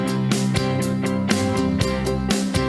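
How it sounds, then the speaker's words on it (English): An upbeat classic British pop backing track from Band-in-a-Box with a steady drum beat, bright keyboard chords and a bass line, playing continuously at a lively mid-tempo. "I found this classic British pop, and it sounds like this."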